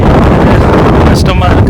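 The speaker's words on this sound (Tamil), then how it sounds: "ரொம்ப காற்று போட்டு ஆளையும் தள்ளுது." Strong wind roars across the microphone on the Kondarangi hills, a loud, constant buffeting rush filling the whole moment, with a faint voice briefly breaking through.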